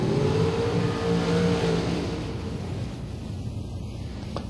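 At a bracket drag race, a dragster's engine roars loudly from close by, then fades slightly as it pulls away over a few seconds.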